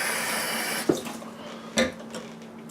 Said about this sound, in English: So we'll just rinse some more.